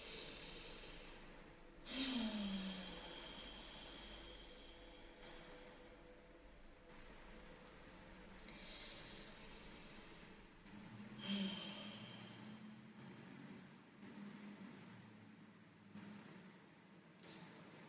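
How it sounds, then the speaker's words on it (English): Slow, audible ujjayi yoga breaths through a constricted throat, with a hissing, throaty rasp, a few long inhales and exhales spaced apart, close and fairly soft. "Ujjayi breaths have an inhale through the nose, like constriction on the back of the throat, as if you're fogging up a mirror."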